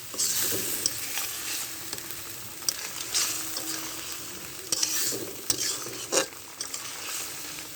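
Spice paste fries in a pan for a shrimp dish while being stirred, a continuous close sizzle broken by scraping strokes and a few sharp knocks of the spatula.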